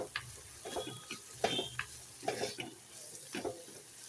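Onions, shallots, mustard seeds, fenugreek and curry leaves sauté in a pan, with soft sizzling under repeated scraping stirs and clinks of a spoon against the pan, loud and close, with no voices.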